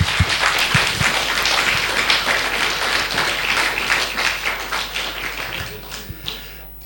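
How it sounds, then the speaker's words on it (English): Audience applause for charity contributors at a gathering with WW2 veteran speakers, a sustained round of clapping with some distinct close claps and knocks, gradually thinning out toward the end. "So I would just like to have a round of applause for them"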